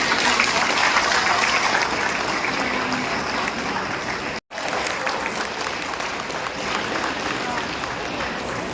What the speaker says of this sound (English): Let's give a big applause for Mr.